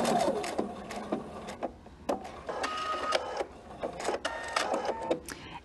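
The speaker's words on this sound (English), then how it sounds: "I'm going to begin sewing with that stitch" A serger sewing a blanket stitch produces quiet, close mechanical whirring bursts, stopping and starting in short irregular runs with a faint motor hum between them, with no talking.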